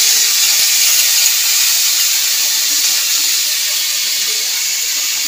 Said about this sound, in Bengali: আগে থেকে গ্রেট করে রেখেছিলাম পেঁয়াজটা দিয়ে দেবো।